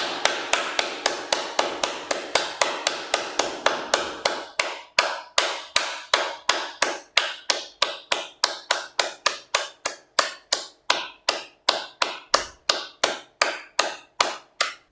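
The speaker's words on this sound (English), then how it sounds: "So let's clap again." A group claps hands in steady unison during a meditation session, dozens of sharp, evenly spaced claps in a brisk rhythm, slightly faster at first and then settling into a firm, regular beat, with no talking.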